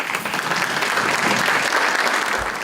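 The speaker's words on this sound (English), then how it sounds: "So stand up and give yourselves a round of applause." Audience applause at an opening breakfast event, a dense, steady round of clapping from a standing crowd, loud and continuous for a few seconds with no talk.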